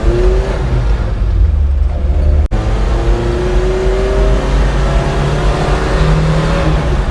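A Maruti Gypsy's engine running steadily while the vehicle is driven, a loud, even drone with road noise and one brief dropout, and no talk during it.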